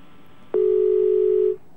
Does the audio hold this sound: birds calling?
no